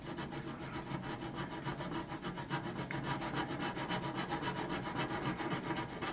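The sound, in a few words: filing wood with a file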